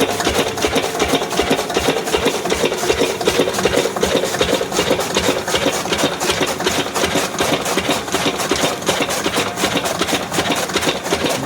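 A Lister diesel engine drives a fodder chaff cutter, making a loud, steady, rapid mechanical chatter with a grinding, rasping cutting noise throughout and no talk.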